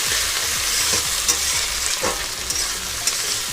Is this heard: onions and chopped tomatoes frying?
yes